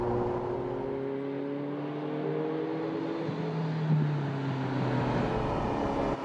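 A Ferrari GTO engine pulls steadily under acceleration, a continuous close droning roar with rising harmonic tones and no speech.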